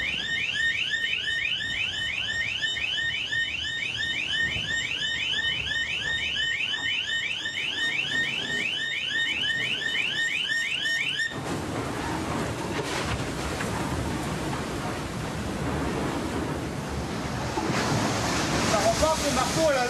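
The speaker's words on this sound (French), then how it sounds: "Le réveil, c'est une minuterie et une sirène qui hurle à 95 décibels." An alarm clock siren blaring at about 95 decibels sounds in fast, repeating high warbling bursts for roughly eleven seconds, loud and steady. It then stops abruptly, giving way to broadband noise and rumble.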